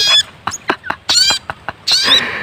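Sogon chickens, a sturdy large-bodied fowl, cluck loudly and up close in a run of short, choppy calls with a few longer squawks and brief gaps between them.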